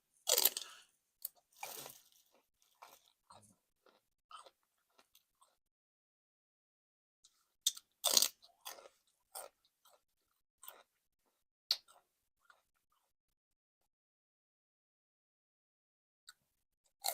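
Raw celery and carrots being bitten and chewed close up, with sharp wet crunches in scattered bursts separated by long silent pauses.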